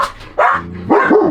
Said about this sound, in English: This is what happens when you have lots of dogs.